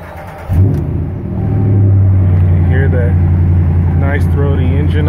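A 2018 Ram 1500 pickup's engine cranks and fires up close by, then settles into a deep, steady idle hum while someone talks over it.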